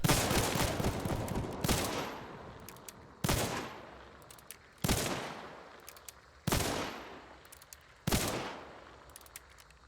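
An Uppercut revolver fanned in Hunt: Showdown fires about six heavy shots at a steady pace, each loud crack followed by a long rolling echo that fades before the next.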